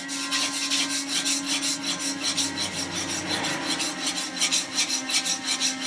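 A plane iron's bevel is honed by hand on a sharpening stone, giving a steady rhythmic rasping as the steel strokes back and forth, close and continuous with even repeated scrapes and no talk.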